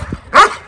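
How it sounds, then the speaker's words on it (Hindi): A fierce, aggressive dog lets out a single sharp, loud bark close by, preceded by a faint low grumble. "ये बड़ा ही जबर कुत्ता है"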